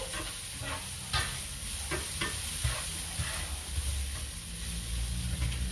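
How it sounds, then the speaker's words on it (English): Steady sizzling of food frying in a pan, with occasional stirring clatters and scrapes breaking through the constant hiss. "so while that's pan frying there"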